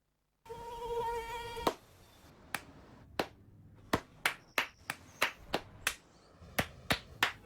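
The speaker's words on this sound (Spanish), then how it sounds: "No aplaudamos al mosquito, combatámoslo en serio." A mosquito's thin, steady whine buzzes for about a second, then gives way to a run of roughly a dozen sharp hand claps or slaps, spaced irregularly and growing quicker toward the end.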